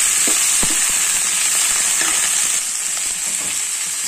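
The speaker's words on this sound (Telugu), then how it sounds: "ఇప్పుడు బీన్స్ వేసుకోవాలి. బాగా కలుపుకోవాలి." Chikkudu beans frying in a hot pan while being stirred, producing a loud, steady sizzle broken by scraping, clattering stir strokes, close up and with no talking.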